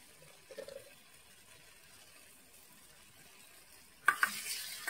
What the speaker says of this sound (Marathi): परत मिक्स करून घ्यायचं.